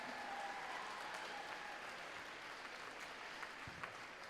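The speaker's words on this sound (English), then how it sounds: "give them a round of applause" An audience at the 2019 FRC PNW District West Valley robotics competition opening ceremony applauds the event volunteers, a faint, distant wash of clapping filling a large hall without a break.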